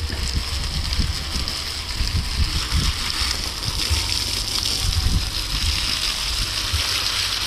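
Water gushes steadily while plants are watered, a continuous close splashing and pouring hiss with low rumbling underneath.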